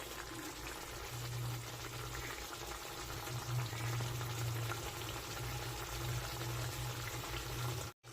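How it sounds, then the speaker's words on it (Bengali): Chicken gravy boils in a pot on a gas stove, with a steady close bubbling and hiss that continues evenly before cutting off briefly near the end. "একটু ফুটবে, তারপরে গ্যাসটা কমিয়ে দেব।"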